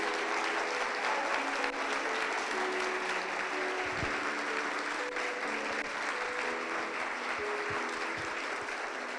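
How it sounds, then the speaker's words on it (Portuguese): A church congregation applauds, a steady wash of many hands clapping at moderate distance that continues evenly throughout, with a few low thumps and faint tonal hum beneath. "Dá um aplauso a Jesus por isso"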